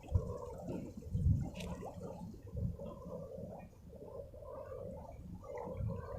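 Air bubbles out of a balloon pushed underwater, making low gurgling, glugging bursts that come and go at moderate loudness, with no speech.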